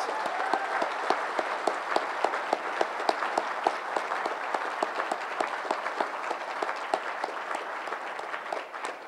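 Audience applause at a 2010 graduation ceremony, a steady mass of many hands clapping with distinct individual claps standing out, sustained and fairly even throughout without speech.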